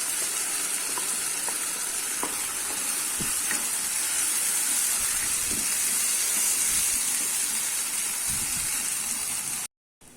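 A wet ground spice paste for toor dal kurma hisses and sizzles steadily in a hot pan, with occasional stirring scrapes and clinks, continuous and close, cutting off abruptly near the end.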